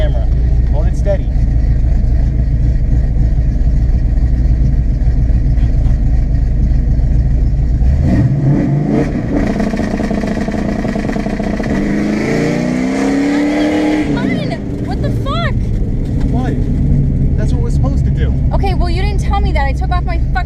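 LT1-powered Trans Am launching from a standstill with a homemade launch controller, engine roaring loud and steady, then a rising rev sweep as the car pulls away, close to the microphone.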